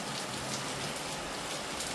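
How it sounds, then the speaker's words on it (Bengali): Heavy rain pours down in a sudden downpour after dry, sunny weather, a dense, steady hiss of drops drumming on surfaces that stays loud and unbroken throughout, with no talking. "ঝমঝম করে বৃষ্টি শুরু হয়ে গেল"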